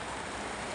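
Steady rain falls outdoors in a garden where cucamelons are being harvested, making a dense, even hiss that fills the moment without a break.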